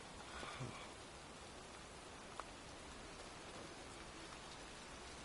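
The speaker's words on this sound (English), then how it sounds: "It's raining." Steady rain falls in the game Heavy Rain, a faint, even hiss of drops with one brief tap partway through and no voices.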